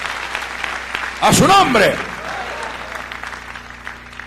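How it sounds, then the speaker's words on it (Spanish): A short burst of clapping and cheering from a church congregation, loud for under a second, with a voice speaking before and after it. "Dele fuerte ese aplauso al Cristo de la gloria"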